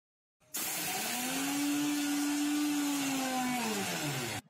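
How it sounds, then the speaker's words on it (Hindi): A mixer grinder pulverizes Oreo biscuits with sugar under a closed lid, a loud steady motor whine that starts abruptly, holds for several seconds, then drops in pitch and cuts off. "इसको अब हम ढककर पीस लेंगे बारीक बिल्कुल पीस लेना है इसको"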